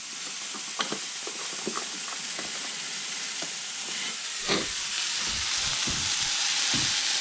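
Venison browning in a hot pan, with a loud, steady sizzle and hiss broken by occasional taps and scrapes as the pieces are turned.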